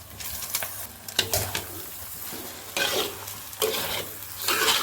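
Boiled noodles tossed into a pan of vegetables for vegetable noodles, giving a soft sizzle with scraping stir strokes that come and go in bursts, close up and with no talking.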